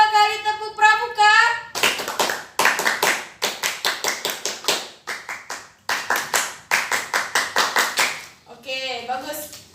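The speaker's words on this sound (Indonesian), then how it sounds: "2 kali tepuk pramuka" Children in a scout troop perform the rhythmic Pramuka clap, sharp bursts of unison hand claps in patterned groups. Young voices chant between and around the claps, close and loud.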